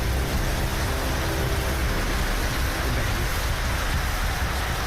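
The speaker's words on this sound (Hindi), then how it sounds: "सुबह सुबह शुरू हुई बरसात रुक रुक कर पूरे दिन जारी रही।" Steady rain falls across Delhi on a winter day, a dense, continuous hiss of drops with a low rumble beneath, loud and unbroken throughout with no voices.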